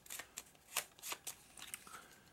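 Mystery cards from the Eldritch Horror board game are shuffled up close, a quick run of soft riffling card flicks, quiet and without talk.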